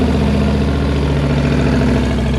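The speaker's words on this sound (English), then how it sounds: "Let's start up the bike" A motorcycle fitted with fabric exhaust wraps runs at a steady idle, its deep, even engine rumble close and continuous with no talk over it.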